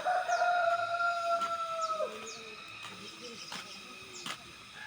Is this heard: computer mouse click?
no